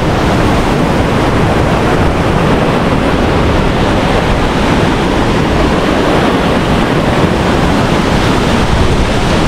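Dunhida waterfall in Sri Lanka, a heavy continuous roar of falling water with spray, loud and broadband, steady from start to finish with no talk.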